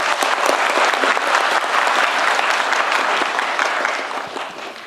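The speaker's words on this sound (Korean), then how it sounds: "박수 한번 주세요" An audience at a Korean public town-hall event bursts into sustained applause, dense and loud clapping from many hands that holds steady for several seconds before starting to taper off.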